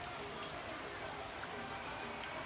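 Afternoon rain keeps falling outside a porch in the mountains of Cuba near Pico Turquino, a soft, constant hiss flecked with faint drips, distant and quiet.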